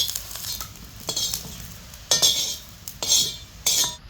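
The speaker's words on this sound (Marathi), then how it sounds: "थोडस जिरं मिरच्या चांगल्या भाजून घ्यायच्या" Green chillies, peeled garlic and cumin roast in a pan under a soft sizzle, punctuated by irregular metallic clinks and scrapes from a spoon stirring close by.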